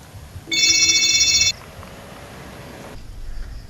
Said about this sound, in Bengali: প্রেমিকার ফোন